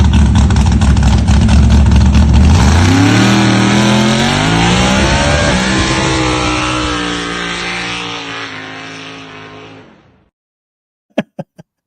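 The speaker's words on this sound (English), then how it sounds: "even after the trees, you could just still hear the motor just like rolling" A car doing a burnout roars loudly, its engine revving and climbing in pitch for about ten seconds before cutting off abruptly, followed by a few sharp knocks.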